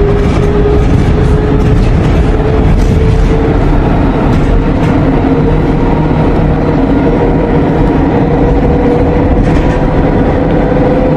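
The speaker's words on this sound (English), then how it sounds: "Train is approaching station A7." A steady, loud rumble of a Blue Line metro train rolling along the track as it approaches a station, with constant mechanical roar and a faint humming tone throughout.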